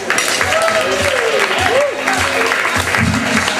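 Applause for comedian Josh Womack at a Willoughby Brewing Company comedy show, broad steady clapping from the audience with voices mixed in throughout.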